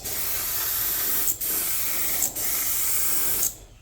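Aerosol spray paint hisses steadily in light coats over a 3D-printed WALL-E model, three long continuous bursts with brief pauses between them, close and fairly loud, ending in silence.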